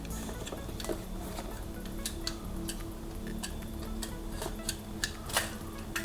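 Blades cutting a Takara Tomy Jurassic World dinosaur toy loose from its packaging, a string of crisp clicks and snips at an uneven pace, close by over a low background hum.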